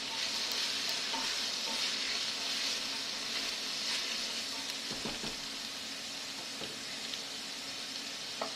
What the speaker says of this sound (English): And then just toss them in the pot. And give it a stir.